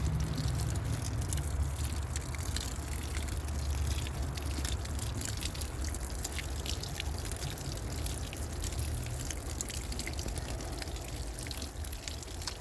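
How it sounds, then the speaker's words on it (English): Newly planted garden seeds being watered, heard as a steady, close pour of water hitting soil with constant splashing and trickling and no pauses. "All right, let's water these babies in."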